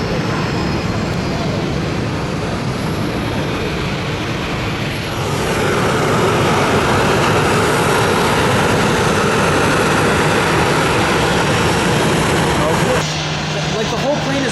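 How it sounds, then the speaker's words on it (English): WestJet Boeing 737 MAX airliner in new livery at Atlanta's airport, heard as a loud, continuous jet-engine roar that swells partway through and holds steady. The sound is near and dominant. "Oh, WestJet new livery max on the north side now."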